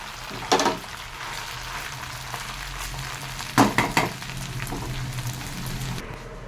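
Rice tipped into a pan of hot tempered spices with soaked cashews and raisins, frying with a soft steady sizzle and two louder bursts of clatter as it is stirred.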